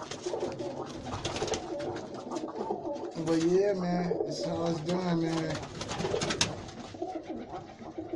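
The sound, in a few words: roller pigeons cooing, young squeakers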